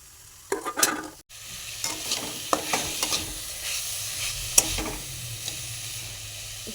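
Chopped green chillies and curry leaves fry in a pan, a soft sizzle under scattered stirring and scraping strokes, close and fairly quiet.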